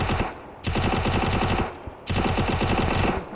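Rapid automatic gunfire in a shooter video game: two long, loud bursts of fire separated by a short pause, with no talking.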